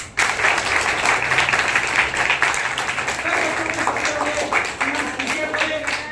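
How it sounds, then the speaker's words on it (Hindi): Loud, sustained applause from a crowd of schoolchildren at a Beti Bachao Beti Padhao girls' education talk, dense and steady for several seconds with voices mixed in. "आप अपने लिए जोरदार तालियों से अपना स्वागत करें।"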